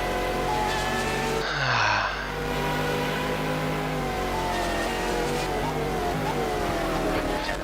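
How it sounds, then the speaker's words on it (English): A Ferrari race car roars in a racing game at the Nürburgring 1000 km, loud revving with rising and falling engine tones and a sharp gear change early on, continuing steadily. "Ferrari makes a lot of noise for not going anywhere."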